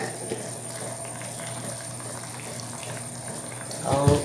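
Water pours into a cooking pot holding pork for chopsuey, a steady, fairly quiet running stream that ends in a brief louder splash.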